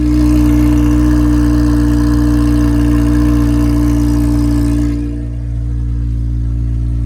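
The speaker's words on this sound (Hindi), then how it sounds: "ये आप देख रहे हैं ये मेगाफोन की आवाज है कोड स्टार्ट में" A car engine fitted with a megaphone exhaust idles high just after a cold start, a loud, steady droning burble that drops and eases slightly near the end as the revs settle.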